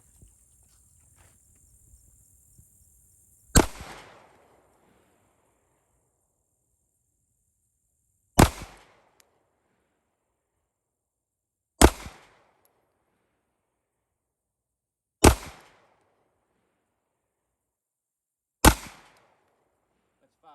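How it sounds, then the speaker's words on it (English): Five sharp SIG pistol shots fired one at a time at a target, loud and spaced roughly three to four seconds apart, with short echoes trailing each shot and quiet gaps between. "we'll put 5 rounds on that circle and see how close we can get them"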